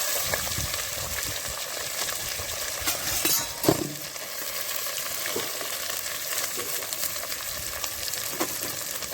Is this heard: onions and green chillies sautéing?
yes